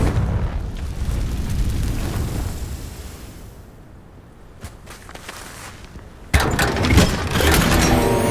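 A Confringo blasting spell in the Hogwarts Legacy video game goes off as a rumbling burst, followed by a sudden loud crackling blast near the end over steady game ambience.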